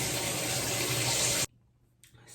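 Shower water runs in a steady, loud hiss for about a second and a half, then cuts off abruptly, leaving a quiet room with faint rustling.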